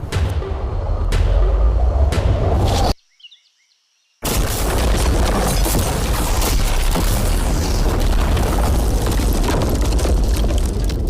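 A car blown up by an explosion: loud, dense broadband blast noise, broken by a brief near-silent gap, then sustained roaring rumble and debris continuing to the end.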